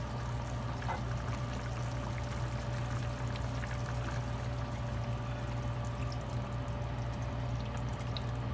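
Pork blood poured into a pot of simmering dinuguan stew, a steady liquid pour and trickle held at an even level throughout over a low kitchen hum.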